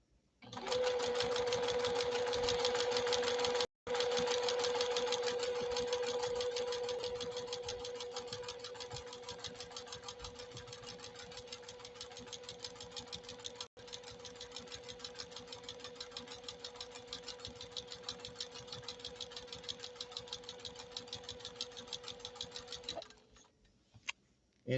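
A JUKI TL 2020 PE sewing machine runs steadily through a very small stitch, giving a fast, even mechanical whir with a constant tone, a brief pause early on, and slowing before it stops.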